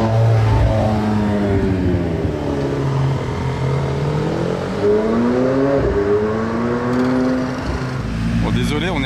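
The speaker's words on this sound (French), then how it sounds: "C'est la première fois que je vois une Porsche Speedster avec une ligne d'échappement" A Porsche Speedster fitted with an aftermarket exhaust drives close by, its loud engine rising and falling through several revs and throttle blips with a throaty rumble, while a voice speaks over it now and then.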